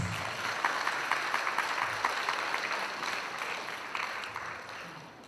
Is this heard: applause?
yes